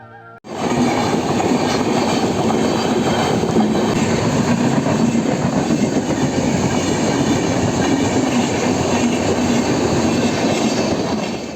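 A train rolls past close by, a steady loud rumble of wheels on rails with faint clatter, continuing for the whole stretch without voices.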